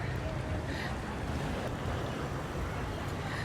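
Strong wind rushes steadily across a seaside beach in Cala Bona, Mallorca, buffeting the microphone with a dense, continuous roar and low rumble; the surf stays buried in the gusts and no one talks.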